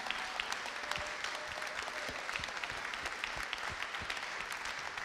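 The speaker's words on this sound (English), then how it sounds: "should we just give these boys another massive round of applause for sharing this evening?" Audience applause at an evening church service, a moderately quiet, steady spread of clapping with individual claps standing out now and then, continuing throughout.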